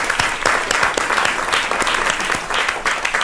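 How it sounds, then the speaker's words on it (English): Applause from a summit audience in New York welcoming a panel moderator: loud, continuous clapping from a roomful of people, steady for the whole stretch with individual sharp claps poking through. "So please, everybody, give a round of applause for Danny."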